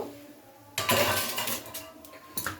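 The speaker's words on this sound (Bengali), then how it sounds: "আর এখানে আরও একটি কড়াই বসিয়ে দেব" A second metal wok set down on a stove, a sharp clanking contact followed by a rattling scrape and a smaller knock shortly after, close and clear in a quiet kitchen.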